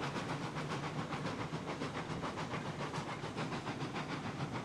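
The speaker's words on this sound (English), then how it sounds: "Watching this little prairie passenger locomotive haul the log train up a mountain" A small prairie passenger steam locomotive in Railroads Online hauls a log train up a steep mountain grade, its steady rhythmic chuffing blended into a constant broad hiss, even in level and unaccompanied.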